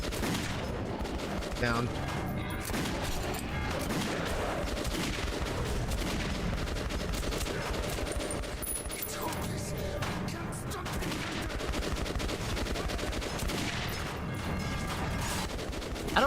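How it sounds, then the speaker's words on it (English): Dense, loud gunfire from Metro 2033 Redux, shots rattling almost continuously with no break, a voice briefly heard underneath. "Do a couple shots with it and see how it feels."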